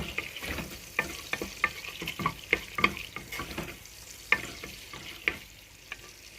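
Cloves, cardamom and bay leaves fry in hot oil for zarda rice, a soft steady sizzle broken by repeated sharp scrapes and taps of a stirring spoon against the pan.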